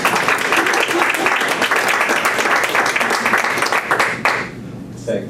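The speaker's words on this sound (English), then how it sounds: "I think that you should give them a round of applause" Audience applause after a film screening at a directors' talk, dense steady clapping from a crowd that fades out near the end.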